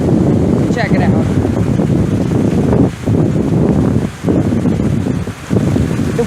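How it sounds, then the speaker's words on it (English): Strong gusty wind buffets the microphone in a broad, continuous roar as a thunderstorm builds outdoors, with brief lulls between heavy gusts. "The wind's picking up"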